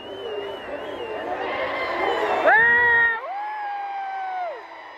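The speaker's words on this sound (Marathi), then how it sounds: "जल्लोष बघा जल्लोष" Spectators at a big bullock cart race burst into loud cheering, with shrill whoops and sustained shouting voices rising close by before tapering off.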